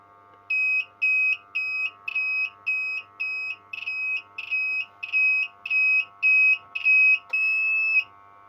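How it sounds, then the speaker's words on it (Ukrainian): A UKC 4000W inverter under repair diagnostics on low supply voltage gives about thirteen evenly spaced, shrill electronic beeps, ending in one longer tone, over a steady faint hum. "Так, дав більше напруги, тому що інвертор почав пищати."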